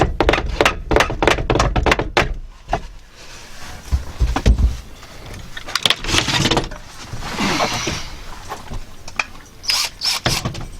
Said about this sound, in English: just Hit it with the hammer